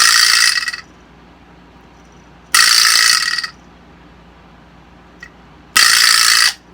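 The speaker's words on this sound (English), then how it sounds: "by striking the ball, the vibrations go through this metal rod, which make this go really, really fast up and down, creating this rattling sound" A Latin American percussion instrument whose struck ball sends vibrations through a metal rod, producing three loud, bright rattling bursts of about a second each, separated by quiet pauses, with one faint tick in between.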